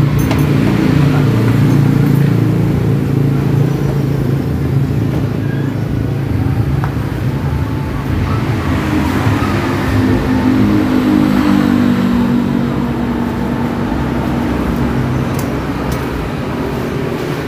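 A Yamaha Vega RR motorcycle engine runs close by with a knocking fault, a steady low throbbing idle that keeps going with slight swells in revs.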